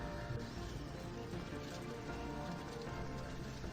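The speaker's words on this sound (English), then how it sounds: "Rain and hail galore" Heavy rain with hail pelting down during a storm, a dense steady roar of drops and impacts filling the whole stretch at constant loudness with no voices.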